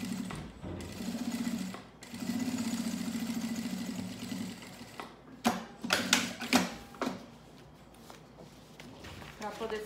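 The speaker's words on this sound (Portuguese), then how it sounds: "Agora em cima eu vou passar uma costura por cima do mesmo lugar aqui." A sewing machine stitches back over the same spot to close a pocket, running in a sustained burst, pausing, then a second longer run, followed by choppy bursts and clatter, with a voice talking at points.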